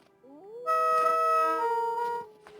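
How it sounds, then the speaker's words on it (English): An animal howls in a survival video game, a rising wail that settles into a long sustained tonal howl lasting about two seconds, clear and close, with no speech over it. "Yeah, go ahead and howl."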